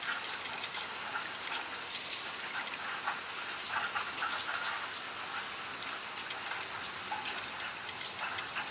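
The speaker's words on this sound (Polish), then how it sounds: "Ulewa." Heavy rain pours down in a steady, dense hiss with scattered drops ticking on nearby surfaces, continuous and moderately close with no speech.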